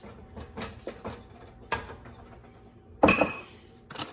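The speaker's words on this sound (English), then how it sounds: "all I'm gonna do is add the remainder of my onions and mushrooms" Onions and mushrooms tipped into a pan of melted cheese for Philly cheesesteak sloppy joes, giving a few soft rustling taps and one sharper clattering hit of the pan, with light kitchen clinks around it.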